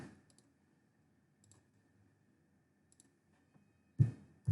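Sparse, faint mouse clicks tick out singly and in quick pairs against near silence, followed by a louder thump at the end.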